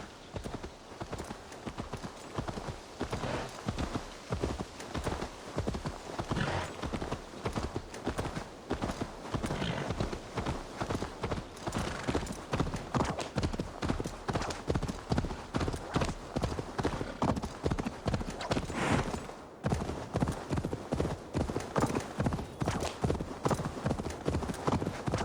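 Horse hooves clip-clop in a steady, continuous rhythm in the video game Assassin's Creed Valhalla, close and fairly loud throughout, with a brief pause near the end before the trotting resumes.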